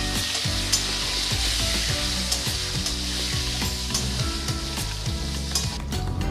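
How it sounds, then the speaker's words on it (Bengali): Diced potatoes fry in hot oil with a whole-spice tempering for a Bengali prawn and radish dish: a dense, loud, continuous sizzle up close, with faint scraping as they are tossed. "এই আলুগুলো দিয়ে ভালো করে ভেজে নেব"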